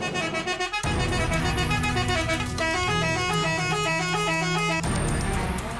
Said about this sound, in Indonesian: merazia bus pariwisata yang menggunakan klakson telolet